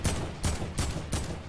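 Four evenly spaced bursts of video game gunfire, each a sharp loud crack trailing into a short noisy decay, close and clear, with almost no talk over them.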